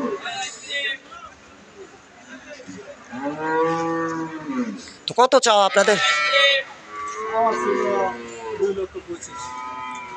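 Holstein Friesian dairy cows at a cattle market give several drawn-out moos, one louder and nearer, amid people talking and general market chatter.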